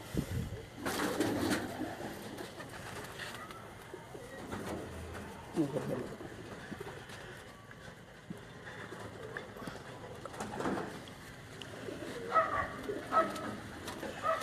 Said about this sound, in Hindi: ये उनके 3 कबूतर उन्होंने छोड़े हैं।